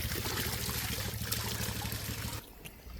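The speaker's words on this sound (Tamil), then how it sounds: "2 அடிக்கு தண்ணி பாஞ்சு கொண்டே இருக்குது." Water runs steadily in a forest stream, a soft continuous trickling rush heard close and fairly quiet, cutting to a quieter murmur near the end.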